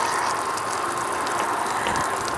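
Hot-side faucet on an Airstream Flying Cloud 23FB travel trailer running fast during de-winterizing, a steady hissing rush of water with a faint mechanical rattle underneath.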